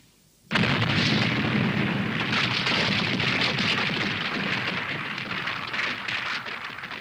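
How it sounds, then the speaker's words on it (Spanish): A sudden loud explosion bursts in after a brief quiet, then a long roaring, crackling rumble with debris-like noise that slowly fades. "Prepárate, voy a hacer estallar la carga."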